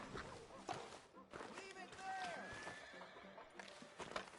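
A horse in the Red Dead Redemption 2 video game whinnies and clops its hooves at moderate distance, with people talking over the scene.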